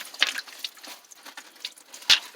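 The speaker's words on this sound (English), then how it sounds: "just some drippy water" Water dripping near a tree root hung with icicles on a winter nature walk, a few close, irregular drips and small splashes against a quiet background.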